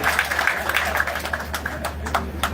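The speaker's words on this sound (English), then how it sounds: "But they are clapping" An audience claps at a data recovery center commissioning ceremony in Sierra Leone, a moderate scattered patter of hands over a steady low hum of the venue's sound system.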